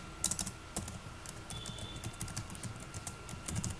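Quiet, steady clatter of fingers typing on a computer keyboard while entering SQL commands, a run of light close clicks with small pauses, no talking.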